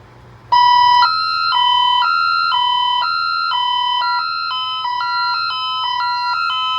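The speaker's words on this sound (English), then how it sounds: "I'll just go ahead and sound a medical alarm" An Ademco Vista 20P security alarm panel sounds a medical alarm: a loud electronic two-tone beeping that bursts on and alternates pitches about twice a second, continuing without pause.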